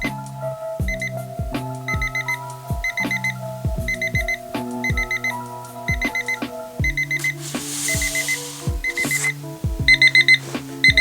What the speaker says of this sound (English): Once the hour hand goes over the marker, where you put the marker, it'll beep.